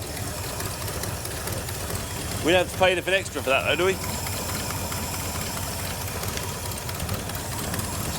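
A GT40 replica car engine idles steadily with a low, uneven puttering from an exhaust blow at the collectors, unburnt fuel present, while a person speaks briefly midway.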